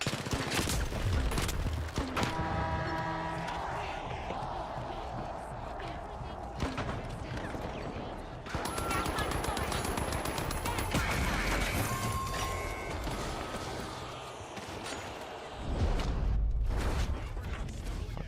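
A Guardian turret rattles off sustained bursts of gunfire in the arena shooter The Finals, layered with other gunshots, crashes and mechanical clatter, loud and close, while voices talk over the action.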